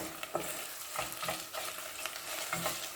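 Onions with tomato paste sizzle quietly in a pan over lowered heat, a faint continuous frying hiss with several scraping stirs spaced through it, nobody speaking.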